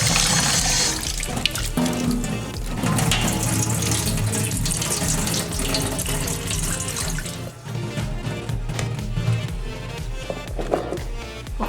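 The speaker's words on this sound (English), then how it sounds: "Now let's go rinse it 3 times with clean water." Bitter gourd is rinsed under a running kitchen tap, and the water hisses and splashes steadily with shifting spatters as the vegetable is moved around in the stream.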